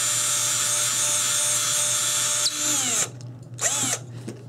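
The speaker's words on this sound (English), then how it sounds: "I'm going to drill into this cardboard." An electric drill whines at high speed for about three seconds while drilling into cardboard, then winds down, followed by a couple of short bursts as it spins up again.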